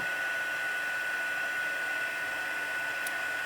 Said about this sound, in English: there you can see the heat embossing happening right now